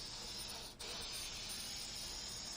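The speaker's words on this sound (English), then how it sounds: "you're just gonna go ahead and just spray directly on the glass" Aerosol spray paint hissing steadily from a can directly onto a glass surface, close and loud, with one short pause before the continuous spray resumes.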